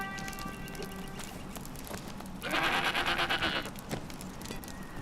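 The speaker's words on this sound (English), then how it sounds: "Oh my gosh, look at these cool goats and horses." Goats in the Lord of the Rings Online game give a loud, wavering bleat in the middle of the clip over a busy background of game ambience and clatter.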